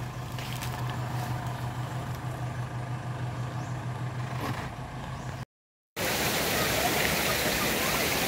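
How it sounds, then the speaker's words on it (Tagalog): Wisik Falls waterfall in Aurora, a continuous broadband rushing roar heard steadily, with a brief cut and then a louder, closer wash of falling water; voices speak faintly. "Dito na tayo sa Wisik Falls."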